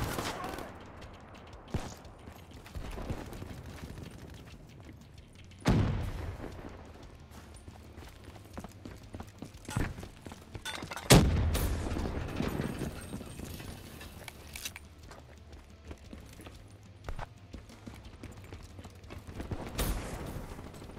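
Sporadic gunshots and bursts of gunfire ring out in Call of Duty Black Ops III, with several sharp loud reports spaced irregularly over a steady low game background.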